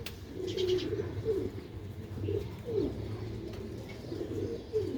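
Tiger pigeons coo in a repeated series of low, throaty calls, about six phrases spread evenly across the stretch, close and clear over a steady background hum with no voices.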